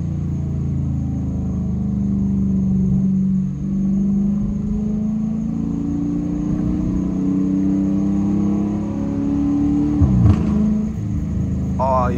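A Dodge Challenger R/T engine rumbles at a steady low drone while cruising, with gear shifts and a brief rise in revs late on, heard from inside the car with a person talking over it.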